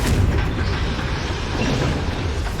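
A fire spell explosion in the video game Hogwarts Legacy, a loud sustained rumbling boom with a broad roaring wash that holds steady for a couple of seconds.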